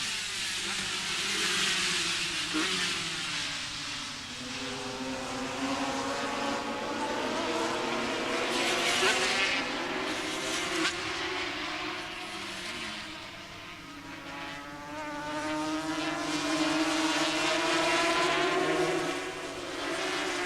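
Race cars at a 1991 Kirkistown circuit race meeting, a Calibre Junior race, roar off the start, a layered engine drone swelling and fading as the field passes at a moderate distance.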